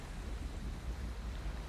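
Steady rushing water spray from a waterfall in Skyrim, a dense continuous hiss with a deep low rumble, even and unbroken throughout, with no voices.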